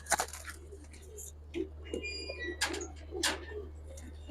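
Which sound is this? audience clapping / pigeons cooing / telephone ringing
pigeons cooing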